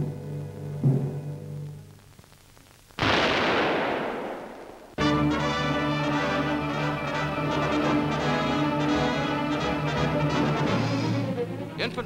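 Gunfire as infantry of the 37th Division blast Japanese snipers out of a valley on Luzon in 1945: a few distant reports, then a sharp blast and a sustained loud roar of firing, heard alone without talk.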